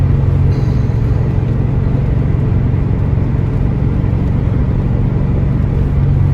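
A 1982 Porsche 928 coasting downhill in fourth gear gives a steady, continuous low rumble of engine and road noise, loud and unbroken throughout with no talk.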